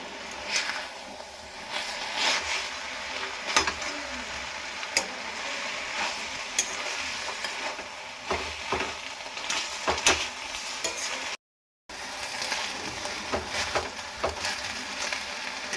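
Drumstick greens stirred in a dry kadai, a spatula scraping and tossing with a soft sizzle, recurring strokes at close range and a brief gap of silence partway through, no talking.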